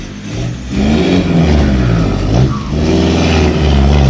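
A 4x4 truck engine revs hard off-road, a loud, close, rising roar with swelling pitch that surges, dips briefly, then climbs again and holds strong.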